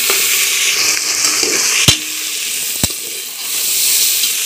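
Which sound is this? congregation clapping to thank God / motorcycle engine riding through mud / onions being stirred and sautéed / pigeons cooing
onions being stirred and sautéed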